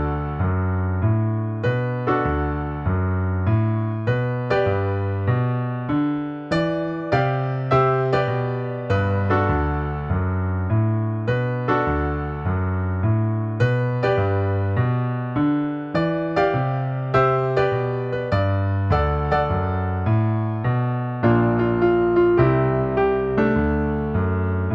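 A piano plays a song with both hands, combining a bouncy, even rhythmic accompaniment with melody chords. It sounds close and clear, with no voices.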